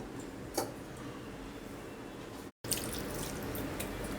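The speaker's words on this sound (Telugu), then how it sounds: "కొంచెం నీళ్లు పోసుకొని ముందర తడుపుకుందాము కొద్దిగా." Water is poured over slices of bread to moisten them for a stuffed masala bread bonda, a faint, soft trickle with a few light drips, steady and close, with a brief gap midway.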